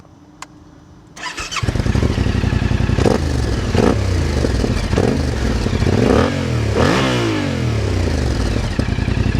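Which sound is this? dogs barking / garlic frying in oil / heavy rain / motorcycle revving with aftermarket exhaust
motorcycle revving with aftermarket exhaust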